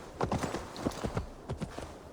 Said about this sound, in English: And our horse, he doesn't want to go fast because we're going uphill again.